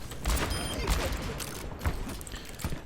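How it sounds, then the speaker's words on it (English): McCree's revolver in the Overwatch video game fires a few quick shots while the player strafes, the sharp cracks spaced unevenly over a busy background of game effects and mechanical clicks. "is just moving while shooting."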